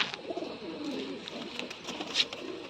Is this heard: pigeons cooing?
yes